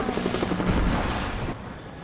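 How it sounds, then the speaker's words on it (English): A helicopter in the video game Rise of the Tomb Raider thumps with a loud, rapid rotor chop that fills the scene, then drops to a duller, quieter rumble. "Jacob, helicopters are headed your way."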